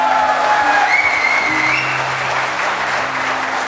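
Steady applause from a company town hall audience fills the room, a dense, continuous clapping that stays loud throughout with a few faint tonal sounds running underneath.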